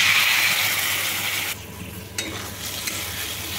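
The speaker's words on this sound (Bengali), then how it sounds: "ধনেপাতা বাটা দিয়ে ভালো করে আবারও কষিয়ে নেব।" Fish curry masala with fried potatoes and coriander paste being stir-fried in a pan, a loud close sizzle that softens midway, with stirring scrapes and a sharp utensil tap.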